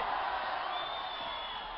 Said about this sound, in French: Très applaudis par un public absolument survolté